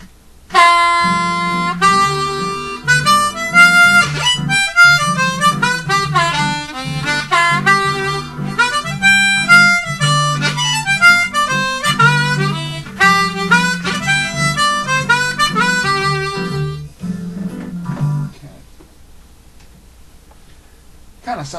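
A C harmonica is played in a bluesy cross-harp style over a backing track, loud, with continuous sustained reedy notes and shifting bends for most of the passage before it fades near the end.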